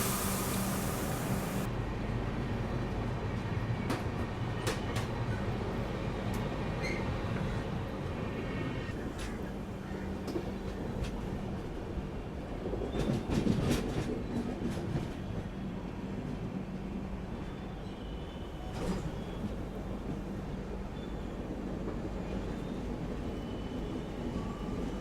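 An Indian Railways train pulls into a station beside a ghat section, a continuous low rumble of rolling carriages with wheel clatter and occasional squeals and clanks, heard from on board over about twenty-five seconds.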